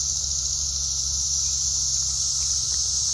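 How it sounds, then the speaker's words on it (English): Dog day cicadas calling from a tree in Chicago make a continuous, loud, high-pitched electric drone that stays level for the whole stretch, with a low steady rumble underneath and no talking. "Dog day cicada."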